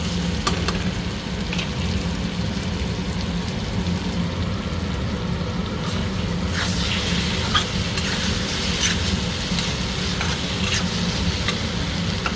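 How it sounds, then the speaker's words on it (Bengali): Spices fry steadily in hot oil with butter while a spoon stirs them, giving a continuous close sizzle with scraping stir sounds throughout and no talking. "মশলা ভালো মতো ভাজা হয়ে গেছে, মশলার তেলও ছেড়ে দিতে।"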